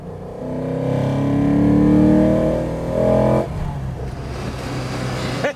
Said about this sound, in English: Have a listen to the induction noise.